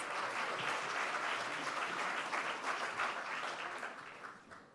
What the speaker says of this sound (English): Let's give me a round of applause.